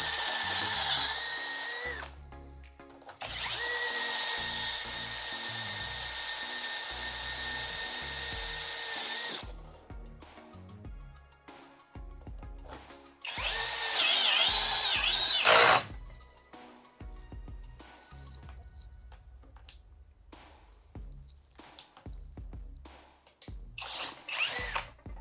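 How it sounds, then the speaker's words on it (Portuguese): A FortG brushless drill driver boring holes of increasing size, with long steady high whines from the motor in bursts of several seconds, separated by quiet gaps and small clicks of handling. "Olha lá, esse é o furo mais fino. Vou furar até o maior aqui"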